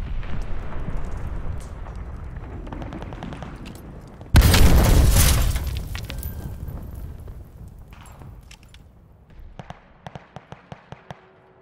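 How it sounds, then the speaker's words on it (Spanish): A glide bomb detonates in the Call of Duty: Vanguard multiplayer game, a sudden loud broadband blast that rolls off into a long rumbling decay over steady battle noise, with scattered sharp gunfire cracks following. "¡Bomba planeadora! ¡Allá va!"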